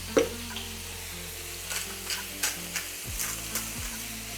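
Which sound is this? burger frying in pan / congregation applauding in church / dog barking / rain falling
burger frying in pan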